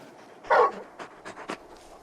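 A big dog in the video game Final Fantasy 16 gives one loud bark followed by several shorter panting huffs and small yips, close and alone with no talk.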